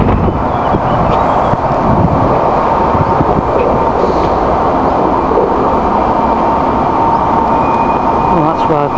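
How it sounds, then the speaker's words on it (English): Traffic swishes past on a road near open wasteland, a continuous loud rushing wash with wind buffeting the microphone throughout. "the sound of the traffic is quite relaxing because it's making a"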